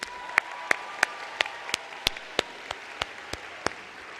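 Graduates clapping at a 2022 university commencement ceremony: sharp, evenly spaced claps in a steady rhythm, about three per second, ring out over a low hum and a faint sustained tone.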